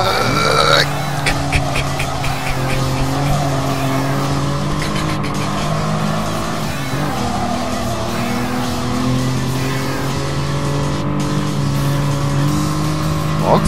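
A rear-wheel-drive car accelerates in a racing game, its engine note climbing and holding a loud, steady roar with brief tire squeal, while a commentator talks over it.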